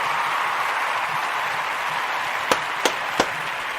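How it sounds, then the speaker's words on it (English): An audience applauds the Kujichagulia babies, a steady wash of clapping with a few sharp, distinct claps standing out near the end. "Give them a round of applause."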